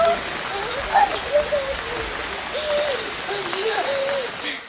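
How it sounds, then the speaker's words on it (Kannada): Floodwater swollen by heavy monsoon rain rushes through a river near Kushalnagar in Karnataka, making a continuous broadband roar with faint whistling tones drifting over it. "ಅಗಾಧವಾದ ನೀರು ಬಹಳ ರಭಸದಿಂದ ಹರಿತಾ ಇದೆ"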